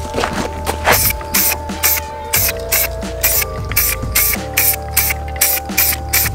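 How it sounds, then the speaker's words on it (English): Spray paint hissing onto an RC car body in a long series of short, loud, rhythmic bursts close to the microphone, with faint music underneath. "One more test spray here."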